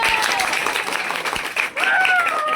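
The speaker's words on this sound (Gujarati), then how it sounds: "તાળીઓ પાડો તાળીઓ પાડો" Guests at an engagement party clapping in a steady patter under overlapping voices and a high, wavering sung or shouted tone.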